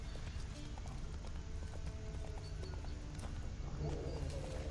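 Horse hooves gallop in a steady, rapid clip-clop as a rider speeds across open country in the video game The Witcher 3: Wild Hunt, close and continuous over a low ambient game bed, with a faint voice mixed in.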